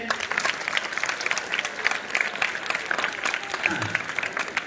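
An audience applauds loudly and steadily at a school felicitation ceremony for scholarship students at Sulakhe High School, a dense wash of crowd clapping that lasts throughout.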